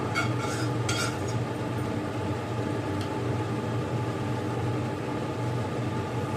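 Butter sizzles in a pan for pasta, a steady frying hiss near the listener with a few light metallic clinks of a utensil early on.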